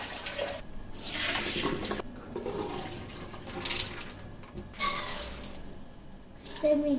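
Tap water runs and splashes over soybeans being rinsed for homemade natto, a steady rushing gush with sloshing and rattling of beans in a bowl nearby.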